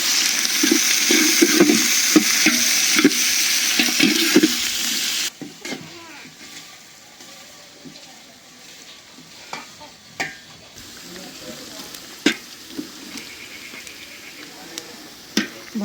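Garlic, onion and green chilli frying in a pan give a loud, dense sizzle for about five seconds, then the hiss drops to a faint crackle with occasional clinks and stirring taps.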